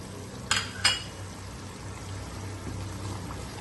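Whole cumin, cinnamon, cardamom, black pepper and cloves roast in a pan, giving two quick clattering bursts early on, then a quiet, steady sizzle.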